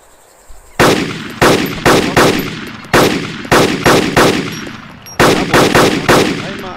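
Arma 2 gunfire: a rapid sequence of about a dozen loud, sharp shots in close bursts, each with a short decaying tail, ringing out alone with no talk.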